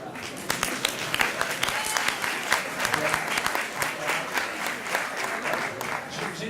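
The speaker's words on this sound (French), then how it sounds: "On est accueillis sous vos applaudissements." An audience applauds to welcome a nanoscience researcher onto the stage at a French science show, the clapping dense and steady throughout with a few sharper claps standing out and faint voices mixed into the crowd.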